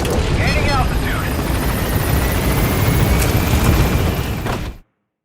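A helicopter climbs in the video game Metal Gear Solid V, its steady, loud rotor and engine roar filling the scene throughout, with a game voice speaking over it before the sound cuts off abruptly.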